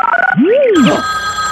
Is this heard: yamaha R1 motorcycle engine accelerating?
no